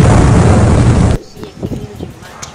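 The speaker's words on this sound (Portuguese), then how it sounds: "Taca a granada." A video game grenade explodes in a loud, dense blast that holds for about a second and cuts off abruptly, followed by quieter scattered sounds and faint voices.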